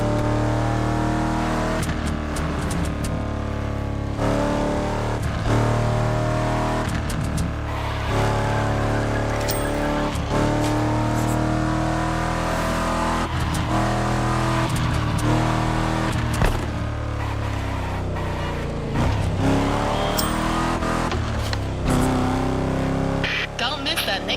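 Vintage luxury car, once among the most expensive production cars of its era, driven in the racing game The Crew Motorfest: loud continuous engine drone with shifting revs and brief tire squeals, a voice talking over it.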